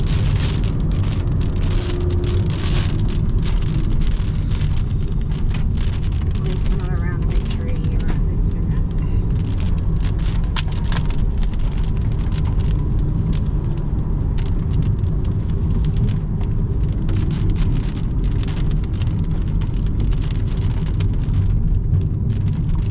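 An unexpected rainstorm pours down in Nimbin, New South Wales, Australia: a dense, steady hiss of heavy rain close by that never lets up, with people talking over it.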